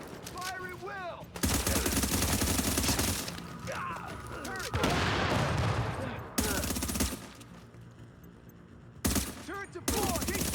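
Sustained bursts of gunfire from turrets and guns in a video game battle against armored hostiles, loud and dense, breaking off briefly between volleys while voices call out over it.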